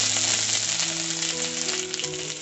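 Ginger paste sizzles in hot oil in a wok with dried chillies, a loud, steady crackling hiss close up that slowly eases off.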